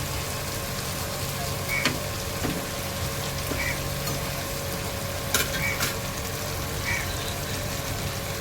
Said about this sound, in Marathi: आता हे बघा फ्राय झाले तर मी आलटून पलटून घेते व्यवस्थित.